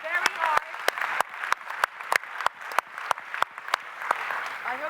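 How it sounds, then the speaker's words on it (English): An audience at the ZeroCon20 opening ceremony claps for the interpretation team, with scattered, sharp, uneven hand claps close by and voices murmuring underneath. "Can we give them a round of applause?"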